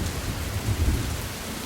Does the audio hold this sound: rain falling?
yes